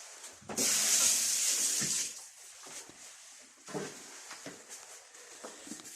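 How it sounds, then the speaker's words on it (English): Tap water runs hard over hands at a kitchen sink for about a second and a half, a bright close gush, then stops, leaving quieter handling sounds and small knocks. "I'm going to quickly wash my hands."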